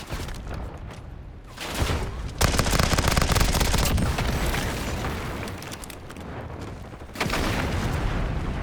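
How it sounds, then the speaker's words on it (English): Airstrike explosions and rapid gunfire in Call of Duty Warzone on the Verdansk map, loud sustained bursts of automatic fire and booming blasts that surge and fade, dense and close throughout. "Hostile airstrike incoming."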